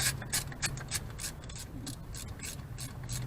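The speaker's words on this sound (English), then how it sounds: "so I'm probably just gonna torque it in there nice and snug" A ratchet clicks rapidly and repeatedly as it snugs down bolts on a GMC Sierra truck part, a close, crisp mechanical rattle in quick bursts with short pauses.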